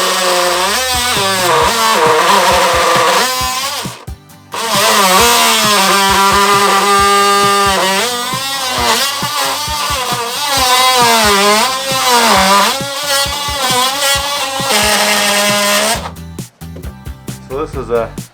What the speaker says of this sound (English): I thought I'd try the vibrating cutter first because it throws up the least amount of dust and garbage into the air